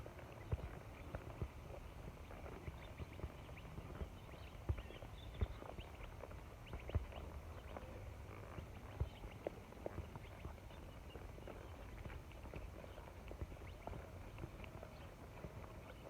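A horse trots during a riding lesson, its hoofbeats a steady, rhythmic clip-clop that stays faint and fairly distant across the whole stretch.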